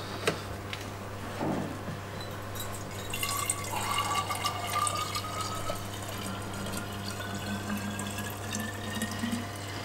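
Liquid supplements are pumped through tubing into vessels beside an aquarium sump, a steady trickle and splash of filling water over a constant low pump hum, with rising filling tones and a few clinks, no talk.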